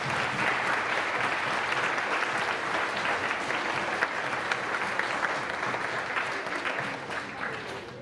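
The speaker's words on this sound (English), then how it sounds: "let's give those coaches a round of applause" A crowd at an awards day gives a round of applause for the coaches, dense sustained clapping filling the room for several seconds before tapering off near the end.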